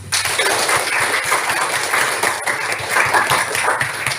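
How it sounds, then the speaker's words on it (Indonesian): A classroom of students applauds for a classmate named Indah, a loud, dense burst of clapping that holds steady for several seconds without any speech. "Tepuk tangan untuk Indah"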